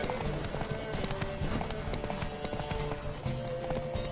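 A horse gallops hard in a race in The Witcher 3, its rapid hoofbeats drumming steadily throughout, close and loud, with faint game ambience underneath.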